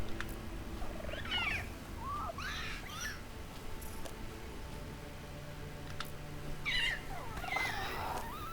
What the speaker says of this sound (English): I'll be quiet so you can hear his little squawks